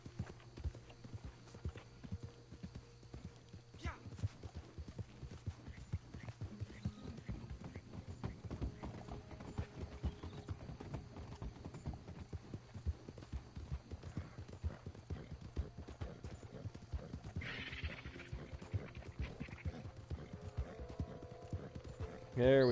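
Horse hooves clip-clop steadily through Red Dead Online, a continuous rhythmic walking gait close by, with a brief whinny and game ambience underneath and occasional talk over the top.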